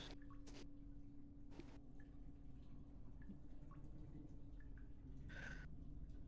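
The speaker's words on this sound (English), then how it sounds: "you kind of hear some dripping from above you. Some water seems to kind of strip down." Faint, sparse water drips fall from above in a quiet tabletop fantasy RPG dungeon ambience, a few scattered plinks over a steady low rumble, with no one talking.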